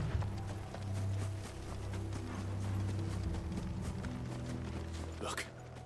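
Horses gallop in the Final Fantasy XVI video game, a quick, rolling clatter of hooves at moderate volume, with faint voices partly underneath.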